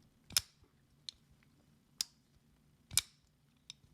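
Sharp, crisp clicks from the blade detent of a GDS Knives Lycodon custom pocketknife, three stronger snaps spaced about a second apart with fainter ticks between, close and quiet.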